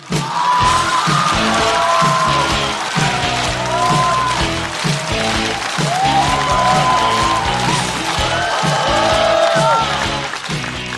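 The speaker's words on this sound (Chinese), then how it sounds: "让我们掌声欢迎牛马侯志远" Live stand-up comedy show audience applauding and cheering to welcome a young newcomer comedian onto the stage, a dense steady roar of clapping with whoops, a voice calling out over it.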